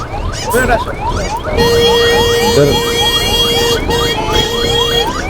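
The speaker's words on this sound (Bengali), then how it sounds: "দেখেন ওটা অ্যাম্বুলেন্স যেতে পারতেছে না" An ambulance siren wails in a repeating up-and-down pattern amid street traffic, loud and close, with engine rumble underneath and no speech.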